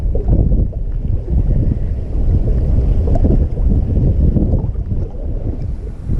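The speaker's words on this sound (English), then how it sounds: "The wind is pretty bad, so we'll see how that goes on the way home." Strong wind roars and buffets the microphone aboard a fishing boat off Sanibel Island, a loud, continuous gusting rumble with no speech.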